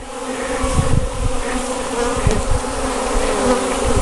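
A honeybee swarm buzzing at a hive, a loud, steady, droning hum of many insects at close range that continues throughout without any voices.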